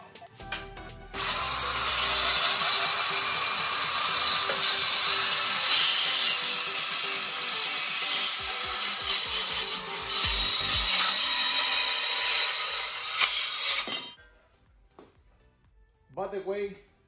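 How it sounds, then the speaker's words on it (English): Bandsaw cutting through material, a loud sustained grinding whine for about twelve seconds, then stopping, with a voice speaking over parts of it. "He let me borrow his bandsaw because with a hacksaw, it's gonna take forever."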